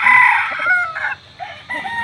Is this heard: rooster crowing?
yes